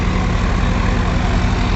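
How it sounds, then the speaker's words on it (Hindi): Mahindra 575 and Sonalika 745 tractors run close by after a rotavator swap, their diesel engines giving a continuous heavy, rhythmic chugging at steady volume throughout. "अब ट्रैक्टर मोड़ के लगाए जाएंगे दोनों शायद"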